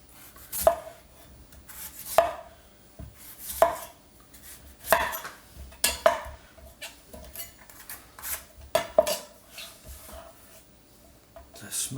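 A knife blade shaves and scrapes at the bruised outer skin of a fresh fennel bulb, making a string of sharp, close cuts and scrapes at an irregular pace, with brief quiet gaps in between.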